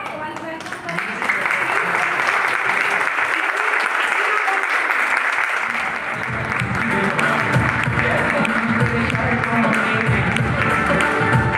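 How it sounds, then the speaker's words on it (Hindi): Loud, sustained audience applause at a health awareness seminar in Dehradun, a dense crowd clapping steadily as a speaker is welcomed onto the stage, with some voices mixed in. "प्लीज जोरदार तालियों के साथ उनका वेलकम करें।"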